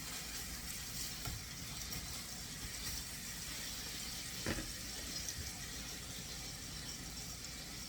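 Potatoes and bacon fry in a pan over moderate heat, giving a steady, moderately loud sizzle throughout with a couple of brief clatters from stirring.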